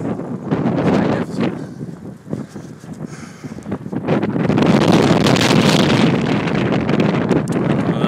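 Strong headwind buffeting the microphone while cycling through Montana countryside near Ennis, a loud, continuous roaring rush with gusty surges that swell and stay heavy toward the end.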